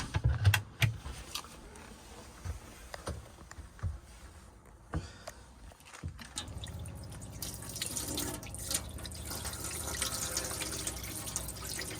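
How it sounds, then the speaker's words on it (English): Hot water runs from a tap in an Autotrail V-Line 363SE motorhome. It starts in splashy spurts with clicks and knocks, then settles into a steady, fairly loud hiss of flowing water near the listener. "Give it a few seconds and the hot water will start to come through."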